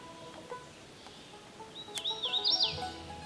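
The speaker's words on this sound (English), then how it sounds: "A pretty little subtropical songbird with a call of warm promises to come." A hooded warbler sings a short, bright, clear phrase of rising and falling whistled notes near the end, over quiet woodland background with a few faint earlier chirps.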